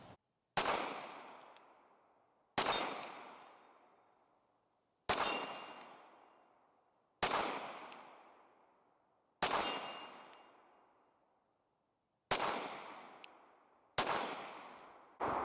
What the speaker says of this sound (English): We actually have some steels out here. These are 12-inch gongs.